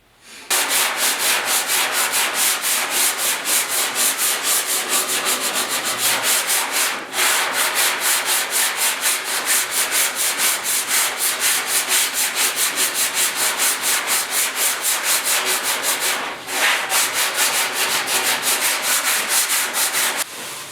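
Hand sanding of body filler putty on the cab corners of a 1956 Mercury truck: close, loud rhythmic back-and-forth rasping strokes, fast and even, pausing briefly twice before resuming.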